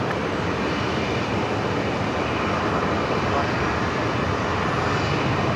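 Airbus A320 jet engines roaring at Brisbane Airport at night, a loud, steady, broad wash of engine noise that holds constant for the whole stretch without breaks.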